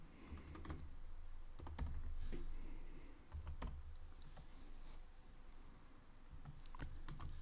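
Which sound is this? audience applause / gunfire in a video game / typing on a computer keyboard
typing on a computer keyboard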